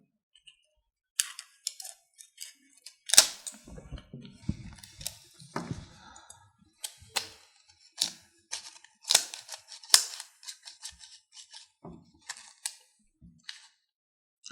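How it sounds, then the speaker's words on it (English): Scissors snip through the tail end of a strip of 35mm film while it is loaded onto a Paterson-style developing reel, giving a string of sharp, close clicks and cuts spread irregularly across the quiet. "I think I'll have to cut the end"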